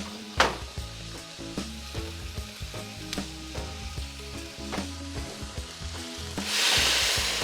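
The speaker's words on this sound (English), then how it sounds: "my wok is hot, so I'm just gonna keep stir-frying it" Steady crackling sizzle of beef stir-frying in a hot wok, with repeated scraping clinks of a spatula stirring, ending in a louder hiss.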